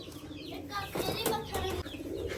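Pigeons coo softly close by, with brief bursts of wing flapping and rustling over a steady low background murmur.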